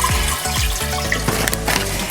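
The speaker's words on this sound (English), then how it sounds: "What you have to do is fill up with water, which I will demonstrate" Water pours steadily into a 3 liter drink dispenser, a continuous loud splashing and gurgling fill that runs throughout.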